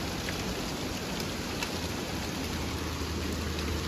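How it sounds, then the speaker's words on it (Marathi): Heavy monsoon rain pouring down steadily, a dense, even hiss of drops on surfaces close around, with no voices and no break in the downpour. "आता तर रोजच पाऊस येणं सुरू झालंय बघा."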